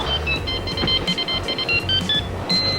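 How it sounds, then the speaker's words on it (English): An old cell phone ringtone goes off in a backyard wrestling setting, a rapid series of high electronic beeping tones over loud, continuous background noise. "cell phone has gone off"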